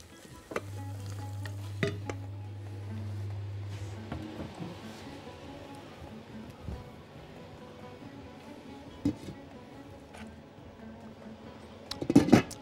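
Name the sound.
onion frying in a pan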